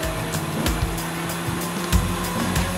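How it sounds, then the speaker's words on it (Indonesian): An electric blender whirring ice and fresh mango into juice, a steady close motor drone with rhythmic clunks of ice chunks striking the jar. "Blender sebentar, wes jadi lur."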